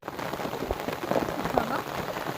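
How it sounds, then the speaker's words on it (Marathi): Heavy rain pours down outdoors in the Konkan countryside during wild-greens gathering, a dense steady patter with a few louder drops striking nearby surfaces, continuous throughout. "भाजी गोळा करता करता जोराचा पाऊस आलाय"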